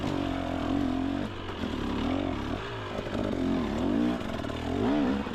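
Motorcycle engine revving hard and steadily as its tires spin on an icy, muddy winter trail, a continuous loud droning roar with rising and falling pitch as the rider loses momentum on the slope.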